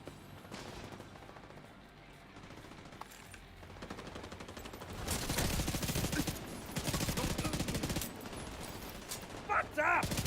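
Turret gunfire in a video game, building from sparse shots into sustained heavy automatic bursts that grow louder in the second half.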